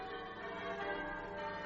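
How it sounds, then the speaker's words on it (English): Church bells peal steadily in a dense, continuous wash of overlapping tones, loud and close throughout with no talking. "Aren't the bells wonderful?"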